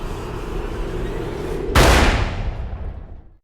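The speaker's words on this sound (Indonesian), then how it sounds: "dengan sangat kejam Leo pun menembak Desio hingga tewas" A single sharp gunshot in a dramatic film scene cracks out loud and close over a steady background score, then its echo fades slowly.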